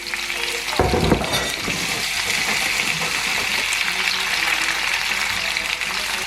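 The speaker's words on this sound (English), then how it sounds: "So I'm just gonna let this fry, as Jamaican would say, cook up." Seasoning sautés in a hot pan for Jamaican ackee and saltfish: a loud, steady sizzle runs throughout, with a brief clatter of stirring near the start and no voices.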